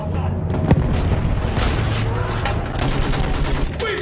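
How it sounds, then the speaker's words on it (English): Battlefield 1 trench battle with dense, continuous gunfire and heavy booms throughout, a sustained roar of shots with a louder crack early on and voices mixed into the chaos. "Use that machine gun. Mow them down."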